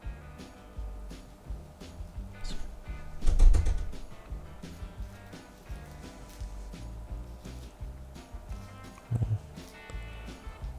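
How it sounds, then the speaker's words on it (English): Cardboard packaging on a Beatles stereo vinyl box set is pried open at close range, with creaks, scrapes and a louder burst of tearing partway through, then scattered handling noises. "Now we're gonna need to pry this open."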